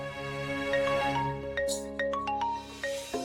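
A melodic phone ringtone chimes for an incoming call in a TV drama scene, a repeating pattern of bright electronic tones, clear and steady throughout.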